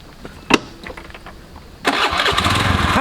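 A motorcycle used as a ride-hailing ojek has its engine cranked; after a brief sharp knock, it catches and settles into a steady, close, buzzing idle that runs alone to the end.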